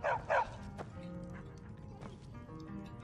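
A dog in the video game Skyrim gives two short, sharp barks near the start, followed by quieter game ambience with faint tonal sounds and soft movement noises.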